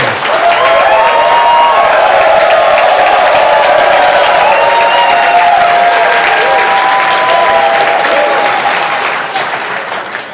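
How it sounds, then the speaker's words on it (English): A large audience at the HOOD Summit 2025 breaks into loud, sustained applause with cheering and scattered whoops, a dense wall of clapping that holds for about ten seconds before easing slightly at the end. "All right, show of applause."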